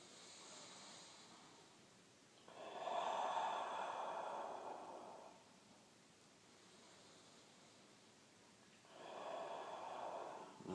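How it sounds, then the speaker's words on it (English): Slow, deep breathing during a stretching exercise: two long, airy breaths, each lasting a few seconds, close to the mic and separated by a quiet pause. "And just go into these and just do deep, long breaths."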